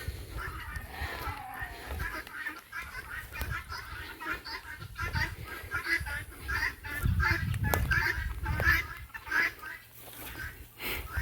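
Guinea fowl and a turkey calling on a farm, a steady run of clucking, chattering bird calls at middle distance with soft background noise throughout.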